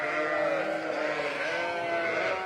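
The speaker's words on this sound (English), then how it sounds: "it's very noisy with the sheep here" Sheep bleat continuously on a farm, a dense, loud chorus of overlapping calls from several animals close by, steady throughout with no pauses.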